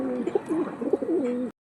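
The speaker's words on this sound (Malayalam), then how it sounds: "ബാക്കി പ്രാവുകൾ ക്വാളിറ്റിയുള്ള പ്രാവുകളാണ്." Pigeons at a breeding loft in Trivandrum coo in low, rolling, close-up calls, several repeated coos running steadily with no talk before the clip ends abruptly.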